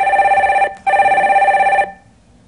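A telephone ringing as a call-in line to a Korean stock-advice broadcast is connected, a loud electronic two-tone ring in two bursts with a brief gap, then stopping.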